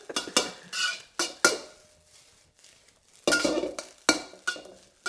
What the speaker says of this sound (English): The sizzle is coming from the moisture being cooked out of the eggs